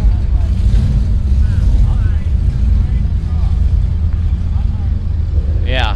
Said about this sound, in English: That was a very large, very loud exhaust with a decent sized camshaft.